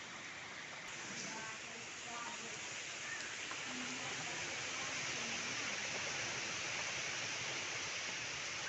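Heavy rain and gusting wind from Cyclone Dana make a dense, steady roar that fills the clip and builds slightly over time, with no clear break.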